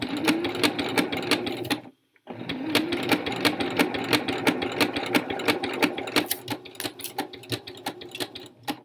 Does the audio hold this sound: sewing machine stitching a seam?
yes